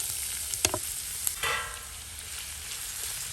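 Onions for an egg pepper fry hit hot coconut oil with a bright, steady sizzle. A few sharp clacks and a short surge of crackling come from stirring, close and without talk.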